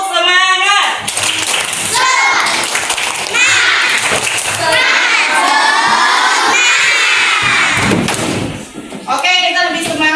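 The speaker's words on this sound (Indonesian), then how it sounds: "Coba tepuk semangat." A classroom of schoolchildren performs a loud rhythmic clap chant, voices shouting together with bursts of patterned clapping, near and energetic, with brief spoken voices at the start and end.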